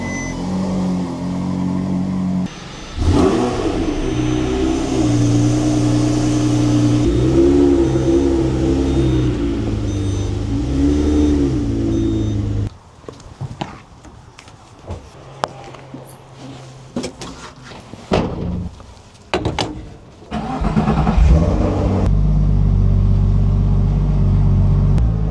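Porsche cars are pulled out of a garage, with engine rumble and revving close by and a loud stretch of running engine, then quieter clunks and shuffling before another engine starts.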